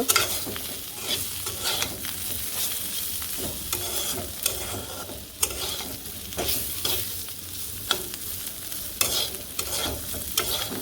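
Bitter gourd, potato and onion fry in a pan under a steady sizzle, with a spatula scraping and stirring in a repeated rhythm of sharp clacks throughout, close and fairly loud.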